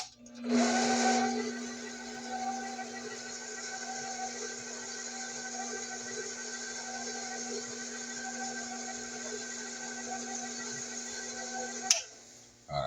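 An electric mixer whirs steadily on its first speed through maple pecan pound cake batter, a close, continuous motor drone with a sharp rise at the start and a brief knock near the end.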